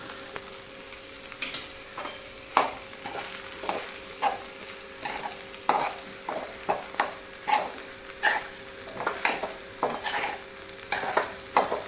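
Diced potatoes fry in hot oil for sabudana khichdi under a low sizzle, while a spatula scrapes and stirs the pan in a regular rhythm of sharp, close strokes.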